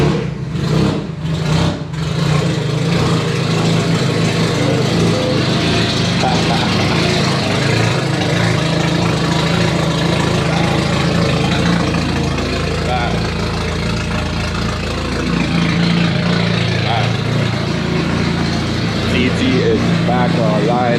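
An Audi TT with the 1.8T engine fires up for the first time after rebuild work, catching with a few rough bursts before settling into a loud, steady idle close by.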